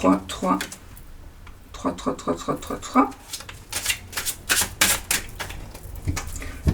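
Tarot cards shuffled by hand for a reading, a run of crisp riffling and flicking bursts with a steady papery rhythm, close and fairly loud, with soft speech-like sounds mixed in.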